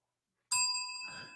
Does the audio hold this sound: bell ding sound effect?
yes